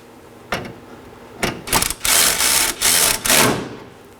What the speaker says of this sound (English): Now I'm going to snug down the top 13mm bolt.